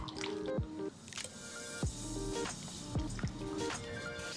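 Glass noodles are lifted out of boiling water, with wet squishing and dripping close by and quick falling and rising tones from droplets and splashes, no voices.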